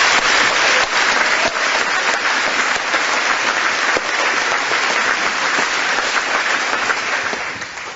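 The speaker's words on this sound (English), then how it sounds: "Let's give them a round of applause." At a May 2011 high school commencement, the audience breaks into sustained applause, a dense wash of clapping that holds steady for several seconds before fading near the end.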